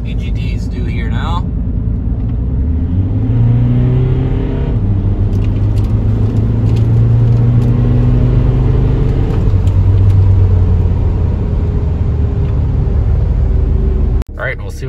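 A Volkswagen TDI diesel car with a CJAA engine and a P0544 exhaust-temperature sensor fault drives on a road, giving a steady, loud cabin rumble with shifting engine tones throughout and a brief knock near the end.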